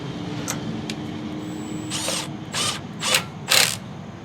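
A Milwaukee M12 Fuel 3/8-inch stubby impact wrench runs a lug down in its rundown mode, with several short bursts of whirring and rattling hammering that grow louder toward the end.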